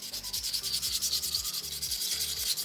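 Sandpaper rubs rhythmically over a soapstone owl carving, close and clear, in quick regular back-and-forth strokes of gritty scraping with no voices.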